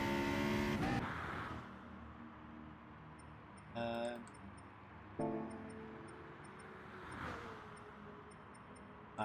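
A McLaren race car in GT Sport drones quietly at a steady engine pitch, with a few brief surges of revving layered over it.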